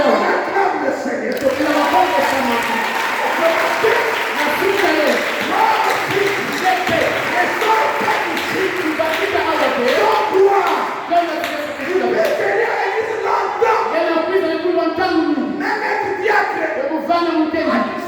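A church congregation claps and cheers in praise of the Lord, a dense, steady wash of applause and raised voices filling the room for the whole stretch, with voices mixed in throughout.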